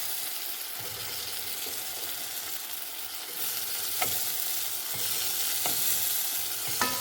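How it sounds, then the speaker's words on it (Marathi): Spices frying in hot oil for a methi dal tadka, a steady close sizzle with occasional stirring clinks, growing slightly louder partway through, no talking. "आता मी हे सगळं अरोमा येईपर्यंत फ्राय करते"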